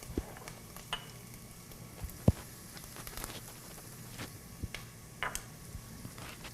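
Jarred minced garlic heating in a pan while being stirred constantly, giving a soft steady sizzle broken by scattered scrapes and clicks of the utensil against the pan, with no talking.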